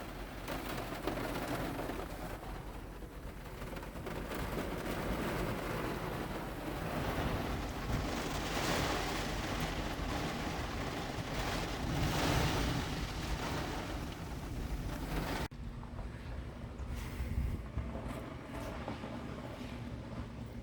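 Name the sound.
rainstorm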